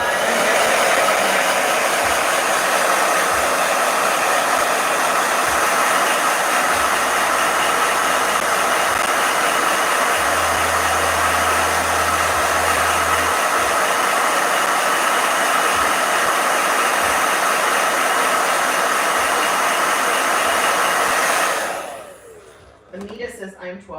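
A hair dryer blows steadily with a loud, even roar for about twenty seconds, then cuts off abruptly near the end.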